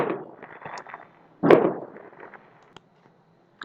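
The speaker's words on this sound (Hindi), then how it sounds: "थोड़ी सी आवाज आ रही है पटाखों की" Diwali firecrackers going off outdoors, heard as a sharp burst with crackling tail followed by a few distant pops and snaps, fairly faint against a quiet room.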